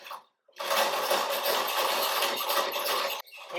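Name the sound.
watch parts baskets spun rapidly to fling off cleaning liquid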